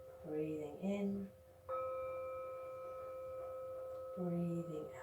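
Meditation chime struck once during a children's yoga breathing exercise, a clear sustained ring that fades slowly, with a soft voice speaking before and after.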